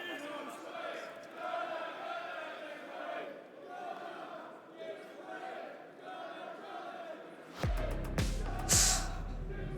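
Esports crowd at the BLAST R6 Copenhagen Major finals, a diffuse arena roar of cheering that rises louder near the end with sharp bursts and a shrill whistle.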